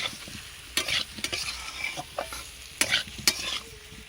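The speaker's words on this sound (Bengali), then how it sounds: "দেখো হালকা আঁচ দিয়ে আমি কষিয়ে নিচ্ছি" Boiled taro (mankochu) and potatoes sautéing with spices in a pan over a low flame, with a soft steady sizzle broken by several sharp scrapes of a spatula stirring the mixture at irregular intervals.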